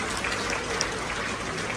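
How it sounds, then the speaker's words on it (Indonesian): An audience at an Atomy company introduction event in Jakarta applauds, a continuous, even wash of clapping from a large crowd with no distinct individual claps standing out. "Tepuk tangan untuk Atomy."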